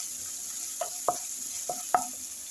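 Ginger and garlic frying in oil make a soft, even sizzle, broken by four short scraping clacks from a spoon stirring the pan.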